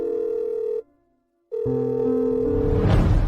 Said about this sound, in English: Hurry up, answer the phone.